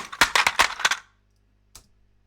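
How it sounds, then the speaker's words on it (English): A toy train tumbling off its tracks makes a quick burst of clattering metallic knocks over about a second, then silence broken by one small final clink. "little toy train falling off the tracks."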